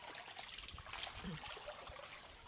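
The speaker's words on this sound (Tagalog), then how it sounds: "Ang tawag dito sa amin yung area na to na pinaglalabahan namin, sapa." Stream water trickling steadily at an outdoor creek washing area in a rural province, a faint continuous dribble and splash with no talk.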